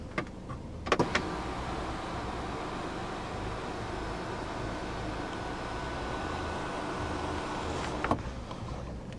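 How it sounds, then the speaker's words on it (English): The panoramic sunroof of a 2019 BMW X2 M35i tilts open as a vent with a steady electric motor hum inside the cabin, marked by clicks at the start and a click when it stops. "You can also open up the sunroof as a vent."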